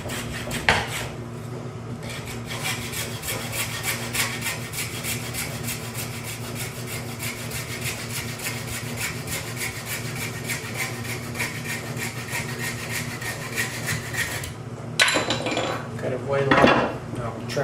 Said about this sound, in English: So I just got a little handsaw here. I'm just going to cut.